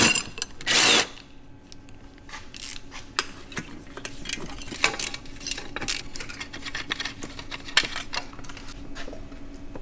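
A power tool briefly whirs as it backs out a 13 mm bolt holding a bracket under a BMW E90-series car, one loud burst near the start, followed by quieter clinks and taps of tools in a garage.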